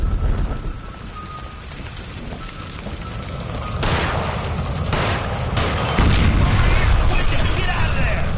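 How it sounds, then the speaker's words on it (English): A gunshot and gas line explosion in the video game L.A. Noire, heard as a dense rumbling boom with crackling debris that swells after a few seconds and stays loud to the end, under game noise. "Shoot the gas line, Cole, we're out of here!"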